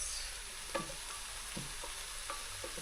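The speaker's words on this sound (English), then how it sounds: "dash of turmeric. Mix that in." A spoon stirs turmeric into bolognese sauce in a pan, giving soft, intermittent scraping strokes over a faint, constant sizzle.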